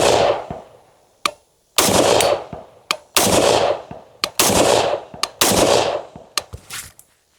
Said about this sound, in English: We're going to start out with a couple of rounds of slow fire, like 4 or 5 rounds